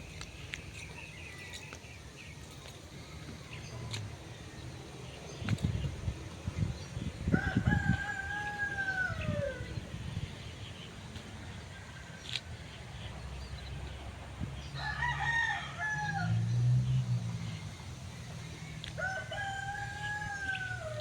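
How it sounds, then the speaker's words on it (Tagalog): A rooster crows loudly several times at intervals, its long rising-and-falling calls standing out over outdoor background noise and occasional thumps. "Ayan, may manok."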